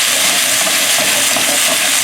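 Zucchini and squash stir-fried in a hot pan with roasted garlic and roasted pepper, giving a steady, loud sizzle and hiss with stirring scrapes throughout, close and without talk.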